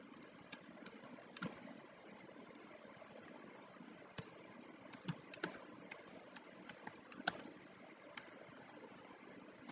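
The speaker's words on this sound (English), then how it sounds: "So let me enter a password over here." Someone types a password on a computer keyboard, producing scattered light key clicks over a quiet background hum, irregular and moderately close.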